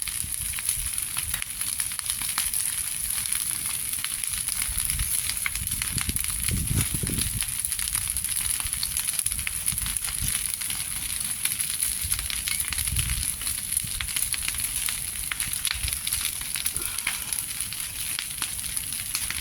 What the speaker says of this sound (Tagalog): Nakatakot yung apoy pa. Sobrang laki.